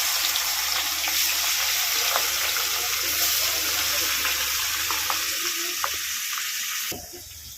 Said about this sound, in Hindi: एबे आमे माछ को सब माछ को तेल रे छाणीबा। तेल रे पूरा गरम हो जाइची।